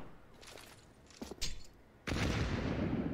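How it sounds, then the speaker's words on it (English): Counter-Strike gunfire on the Vertigo map during a pro match, a few crisp shots around the middle followed by a sustained loud burst of fire, with a caster's voice faintly under it. "Conkvig gets wallbanged"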